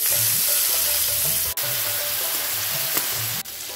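Small shrimp frying in mustard oil seasoned with turmeric and salt, giving a loud, close, continuous sizzle with occasional stirring scrapes and no voices.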